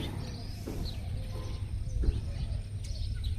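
Birds chirp in a quiet, green village on a rainy morning, with a few faint, scattered calls spread over a low, steady background hum.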